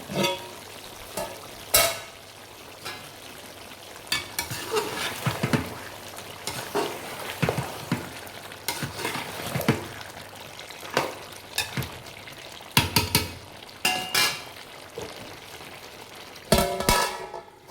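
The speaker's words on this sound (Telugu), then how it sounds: "ఇది ధనియాలు వీటిని వేపుకుంటాను" Coriander seeds dry-roasting in a pan for chicken curry, heard as soft continuous sizzle broken by intermittent scraping and stirring clatters at irregular intervals, fairly close and moderately quiet, with no talking.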